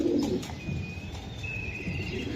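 Racing pigeons from a BRPFC club, 2024 birds including a hen with her chick, give soft low cooing calls close by, with faint chirps and light rustling and no talking.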